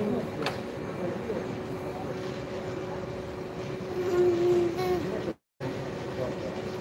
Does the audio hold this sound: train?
yes